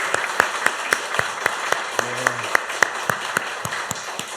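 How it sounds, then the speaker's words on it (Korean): Church congregation at a Sunday morning harvest thanksgiving service gives sparse, steady applause, with individual claps spaced at regular beats, under a low hum and a short sustained tone in the middle. "격려와 감사의 박수를 역시 우레와 같이 하겠습니다"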